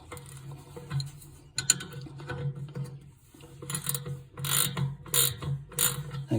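A wrench loosening a nut beneath the wheelhead of a Venco pottery wheel, making close, repeated ratcheting clicks in short bursts with brief pauses, metallic and mechanical, loudest in the final few seconds.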